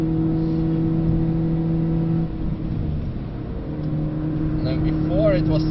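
Car lapping the Nürburgring Nordschleife, braking into the Fuchsröhre-style corner of courage: a steady engine drone that dips and resumes, with a passenger talking over it throughout.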